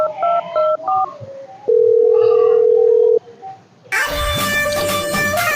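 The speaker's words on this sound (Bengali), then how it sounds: "আমার বন্ধুটারে ফোন করি" Phone keypad beeps in a quick run of short dialing tones, then a long steady tone, a brief pause, and a loud burst of ringing or music from the line.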